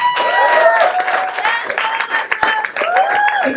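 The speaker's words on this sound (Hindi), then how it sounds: "एक बार इनके लिए तालियां बजाइए" Audience applause and cheering for a performer at a live poetry and comedy event in Mumbai, steady dense clapping throughout with crowd voices mixed in.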